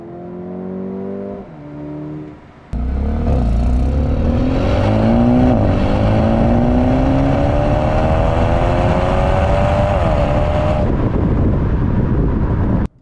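A 2023 Mercedes CLA35 AMG's exhaust drones and rises as the car accelerates, a loud, steady engine note that swells and then cuts off.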